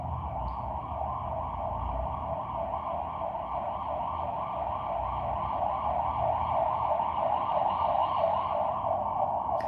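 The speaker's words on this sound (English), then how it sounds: "you hear the police sirens as well?" A police siren wails, rising and falling steadily and continuously, moderately distant, over a constant low rumble of traffic.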